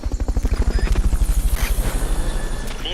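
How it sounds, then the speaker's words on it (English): Rapid rhythmic thumping of helicopter rotor blades in the video game Metal Gear Solid: Peace Walker, loud and close, with a steady pulsing beat that fades slightly toward the end. "Fulton recovery subject confirmed onboard helicopter."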